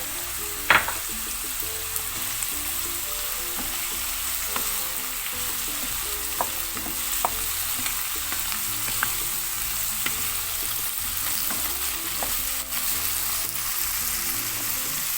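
Cherry tomatoes sizzle in a hot pan of vegan paella, a dense continuous frying hiss with a few light clicks of stirring, steady and moderately loud with no talking.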